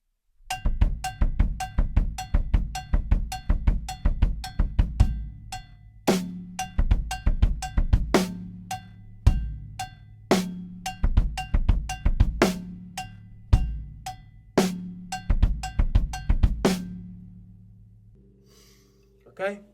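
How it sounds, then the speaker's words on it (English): Drum triplets, each beginning with a bright cowbell hit followed by two bass drum thumps, repeat in quick rolling bursts for about twenty seconds, loud and close, with no talking over them. "you're playing the first hit on a hi-hat or a cowbell, which I've got here, and then the next 2 triplet hits are on the bass drum"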